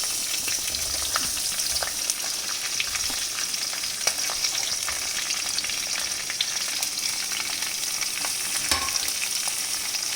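Sliced onions with slit green chilies and ginger sautéing in a hot pan, giving a steady, close sizzle dotted with small crackles and faint stirring scrapes, with no voices.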